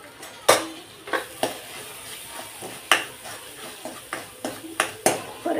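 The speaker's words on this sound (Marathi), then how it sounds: "छान सुगंध आणि तेल सुटेपर्यंत परतून घेते" Spatula stirring and scraping against a pan while red chili powder, kala masala, onion-garlic masala, turmeric and coriander powder fry in oil for drumstick amti, a soft sizzle beneath repeated sharp clinks.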